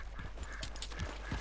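Horse hooves clip-clopping at a steady walking pace in Red Dead Redemption 2, several soft, evenly spaced thuds over a constant low background hum, moderately close.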